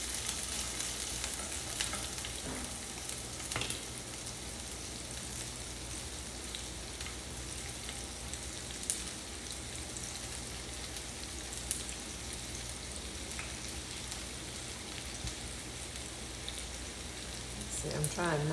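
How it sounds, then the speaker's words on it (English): Vidalia onions sauté in burger grease with a continuous soft sizzle and faint crackle throughout, heard close, with a few light clicks and no talking. "Got my mine back here sauteing."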